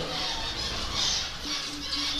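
Young finches in a cage setup give repeated high, squeaky calls, fairly close and continuous over a steady background hiss.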